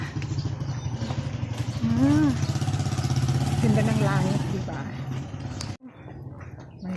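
A motorcycle engine idles with a low steady rumble, with voices talking over it, then the sound cuts off abruptly near the end.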